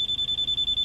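A rapid, steady train of high electronic beeps from a Hyundai i20's rear parking sensor warning of a nearby obstacle, about ten evenly spaced pulses in under a second, loud and clear without talking.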